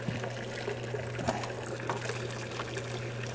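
Water spewing back into a maple sap reverse osmosis unit: a quiet, continuous hiss and gurgle over a steady low machine hum, with faint scattered clicks and no talk.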